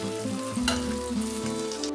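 Onion fries over a high gas flame, a close steady sizzle with a brief crackling burst, layered over a sustained humming drone.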